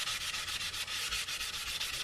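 Wet sanding of a tenor ukulele's wood body with tung oil makes a steady rhythmic rubbing hiss, close and loud with quick back-and-forth strokes and no talking.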